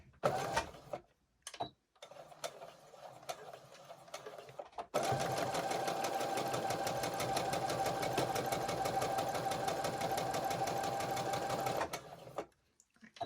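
A sewing machine stitches a quarter-inch seam on a fabric face mask around a turned corner, with short bursts early on, then a steady, continuous run of rapid stitching up close before stopping.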